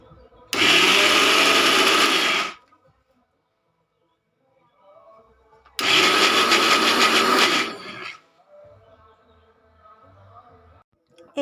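A blender grinds soaked lentils into paste in two loud, close bursts of about two seconds each, its motor whining steadily, with quiet gaps between them and a voice talking softly.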